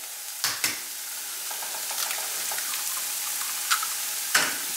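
Eggs fry in a pan for a Spanish omelette, with a steady soft sizzle throughout and a few sharp taps and clinks rising above it. No one speaks.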